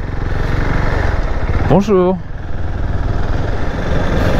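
Husqvarna motorcycle engine running steadily near the listener, with a brief spoken greeting partway through over the continuous engine noise.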